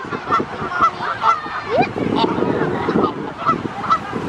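Geese and ducks at a pond honk repeatedly in loud, rhythmic bursts, several birds calling close by in an overlapping chorus.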